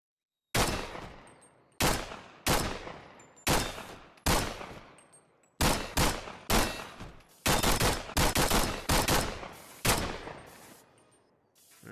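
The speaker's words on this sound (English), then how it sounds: "Let's see what the Glock does." A Glock pistol fires in the VR video game Bonelab, loud single shots followed by a fast run of rapid shots, each sharp crack trailing off in a short ringing decay, with no talk.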